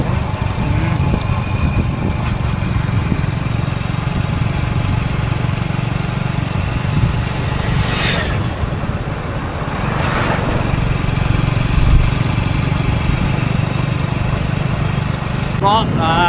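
An old motorcycle engine putters steadily throughout, loud and close, with a voice talking over its constant low rumble.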